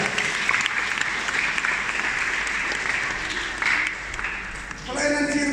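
A church congregation claps steadily through a Sunday service, a dense, continuous wash of applause that dips briefly toward the end; near the close a voice begins over it.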